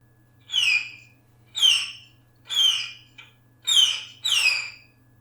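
An instrument imitates a light bird call with six short, high, falling chirps in an even rhythm, each quick and clear, played alone in quiet.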